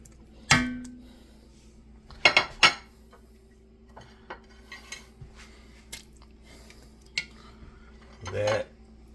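Chopped red onion is scraped and dropped into a gumbo stew pot with a utensil. A few clinks and knocks of metal on the pot stand out over a low steady hum, with no talking.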